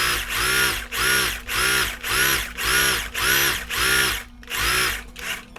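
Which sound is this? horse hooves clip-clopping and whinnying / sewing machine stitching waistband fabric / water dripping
sewing machine stitching waistband fabric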